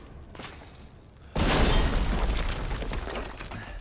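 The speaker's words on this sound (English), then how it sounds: "I love how dramatic that explosion is" A dramatic explosion in a video game, a sudden loud boom with a shattering burst that rises abruptly and then tails off in a long rumbling decay.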